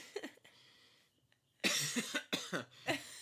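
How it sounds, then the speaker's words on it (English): A burst of several harsh coughs, close and loud, following a quiet pause with a few faint breaths. "I need to cough."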